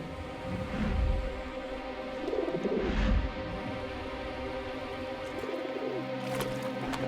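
Pigeon cooing near a river, soft low throaty coos repeating in a few bursts over steady ambient background noise.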